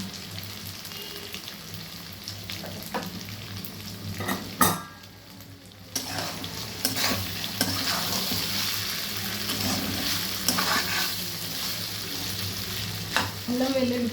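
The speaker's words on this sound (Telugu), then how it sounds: "అల్లం వెల్లుల్లి పేస్ట్ వేసి చాలాసేపు సిమ్లోనే వేయించుకోవాలి ఫ్రెండ్స్, హైలో పెట్టకూడదు" Ginger-garlic paste frying with mutton over a low flame, with a steady soft sizzle and occasional stirring scrapes and clinks of a utensil against the pot, close and continuous throughout.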